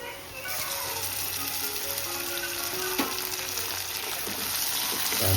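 Tomatoes sautéing with softened onions in a pan for an Ayurvedic wild-greens (ikra) vegetable dish, a steady close sizzle and crackle running throughout, growing slightly louder toward the end.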